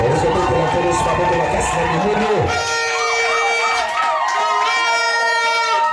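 A church congregation cheers loudly in acclaim, a dense crowd of raised, ringing voices that fills the whole stretch without pause.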